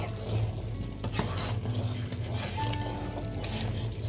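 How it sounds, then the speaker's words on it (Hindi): A spoon stirs simmering cream in a pan while ghee is being made, giving soft, steady scraping and faint bubbling close by against a low continuous background hum, with no talk. "इसलिए अब इसे हम कंटिन्यू चलाएंगे ताकि बिल्कुल भी हमारे तले में ना चिपके"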